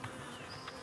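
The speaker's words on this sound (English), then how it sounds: "The bees that are down in there." Honeybees buzz inside a hive during a beekeeper's inspection, a faint, steady hum with a few brief louder whirs of individual bees passing close.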